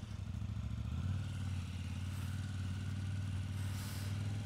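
A KTM 890R motorcycle engine drones steadily while riding, a loud constant low hum with slight rises in pitch, alone without talk.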